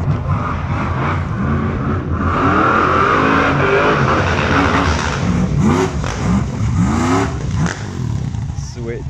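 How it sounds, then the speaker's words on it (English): A Jeep drives away from a car meet, its engine revving and rumbling loudly nearby as it pulls off, with voices talking over the noise. "we've got a Jeep leaving."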